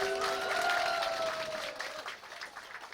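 A crowd at an outdoor Marine Corps cultural festival by a lake park in Gunsan applauds a singer; steady, dense clapping slowly thins out while a sustained musical tone fades beneath it.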